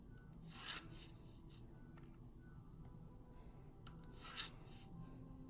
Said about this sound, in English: line up our ruler to connect our marks and drag our pencil